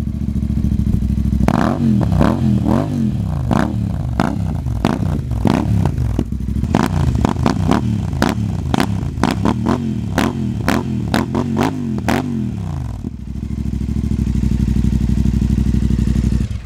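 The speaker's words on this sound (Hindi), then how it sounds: "एग्जॉस्ट की बात चली रही है तो अब सुनते हैं इसकी साउंड" A Royal Enfield Super Meteor 650 motorcycle idles loudly up close, then its exhaust barks through a series of sharp throttle blips before settling back to a steady idle.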